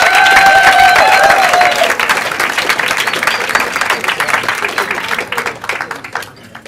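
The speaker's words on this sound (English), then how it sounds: "One round of applause for Geert!" An audience breaks into loud applause for Geert in a comedy venue, dense clapping with a few whistles at first, then gradually thinning and fading out over several seconds.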